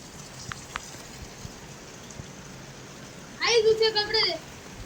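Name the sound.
rain falling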